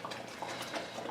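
Steady rolling bubble of water boiling in a pot on a home stove while dinner is cooked, a continuous close hiss and gurgle with no talking.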